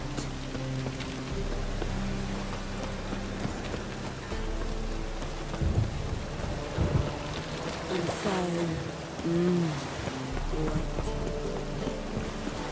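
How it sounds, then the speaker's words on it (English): Steady rain hiss fills the Witcher 3 game scene, with horse hooves clip-clopping and a voice speaking over it throughout. "Cost you double in the rain."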